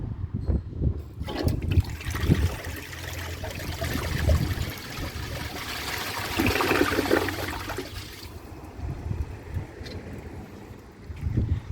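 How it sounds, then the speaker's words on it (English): A 2005 Briggs Abingdon toilet gives a full flush: a loud rushing gush of water that swirls and drains for several seconds, then falls to a quieter refill trickle. "So let's give it a flush and do some tests."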